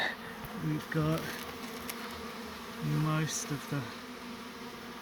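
Bees buzz and drone around a brick beehive being relocated, their buzzing rising and falling up close, while someone talks in short bursts over it.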